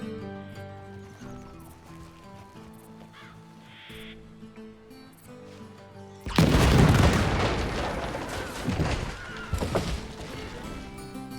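Loud dynamite blast in Red Dead Redemption 2 bursts in after a quiet stretch of music, followed by a rumbling, crackling aftermath with horse and bird sounds around it.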